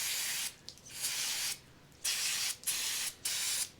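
Choke and carb cleaner sprayed from an aerosol can in several sharp hissing bursts, each lasting about half a second, close and fairly loud with short pauses between.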